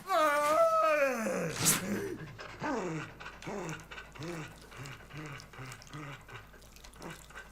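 A dog in the survival horror video game Haunting Ground pants in quick, rhythmic bursts after an opening whine. The breaths repeat steadily and close up, with a faint watery hiss behind them.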